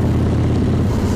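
Steady, loud low-pitched drone of a Harley-Davidson motorcycle engine cruising at 100 kph, continuous and close with no talking.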